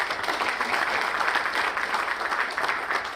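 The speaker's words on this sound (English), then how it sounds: "I want to give our speakers a big round of applause." An audience at a logistics session claps for the panel of speakers, a short burst of dense, even applause heard alone without any talk.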